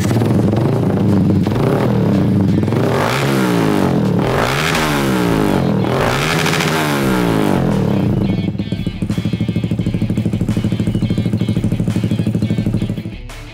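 A Yamaha Vixion motorcycle with a custom underbelly exhaust header revs hard in several rising and falling bursts, loud and close, then settles into a steady rumbling idle.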